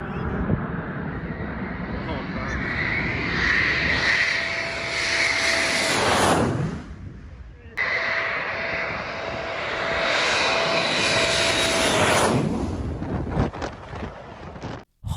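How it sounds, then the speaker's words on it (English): Eurofighter Typhoon jets land at RAF Coningsby one after another, each passing with a loud roaring, rushing engine noise that swells and then cuts off sharply. The jets sound close by, with wind buffeting the microphone. "Insane 22 Eurofighter Typhoons landing at RAF Connonby"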